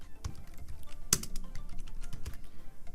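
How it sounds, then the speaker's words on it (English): Sparse keystrokes on a computer keyboard as a channel name is entered, a few distinct taps scattered across a quiet stretch with one sharper clack near the middle; no talking. "So let me type my channel name."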